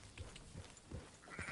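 Sheep bleating in the Red Dead Redemption 2 video game, several short bleats from a small flock heard at moderate distance over a low ambient rumble, with no talk.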